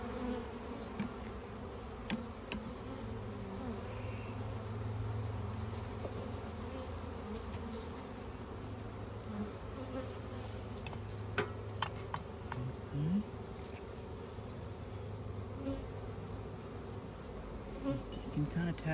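Continuous low buzzing of a mass of honeybees in an open hive during a colony inspection, steady and close, with occasional faint ticks and taps over the hum.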